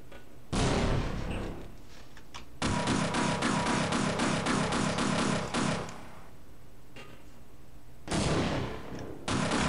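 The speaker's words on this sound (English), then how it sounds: "we're gonna throw a grenade" Half-Life combat with a grenade blast and bursts of rapid gunfire, loud and close, coming in three heavy dense bursts separated by brief lulls, with no talking.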